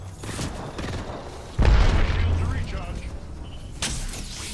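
Gunfire strikes the player in a first-person battle royale shooter, with a heavy booming impact near the middle, mechanical clatter and rattling shots around it, and a sharp crack near the end.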